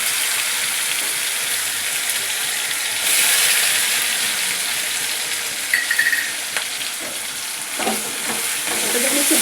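Spice paste of ginger, green chilli, black pepper, onion, garlic, coconut and cashew sizzles and fries steadily in a pan, with occasional stirring scrapes and a louder burst of hissing partway through; no one talks.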